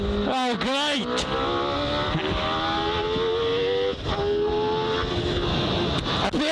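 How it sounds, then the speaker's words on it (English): A 1992 Benetton B192 Formula One car screams close by, its engine revving and shifting with sharp pitch sweeps and then holding a high, harsh whine, while someone talks over it. "The harshness of the engine, the crispness of the gearbox."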